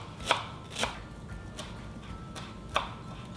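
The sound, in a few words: finely chopping a bunch of coriander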